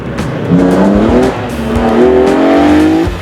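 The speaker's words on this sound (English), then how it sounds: "Competitors then steam on down through the gears to get their lap underway." Rally cars on a tarmac rallysprint circuit accelerate hard up through the gears, loud rising engine notes shifting and climbing twice in close succession, with a hint of tyre noise.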